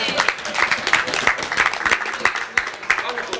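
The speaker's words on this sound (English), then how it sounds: "Give ourselves a round of applause." A small group sitting around a table at a Talkaoke discussion session at Hackstock gives itself a round of applause: close, scattered hand claps that keep going steadily for a few seconds.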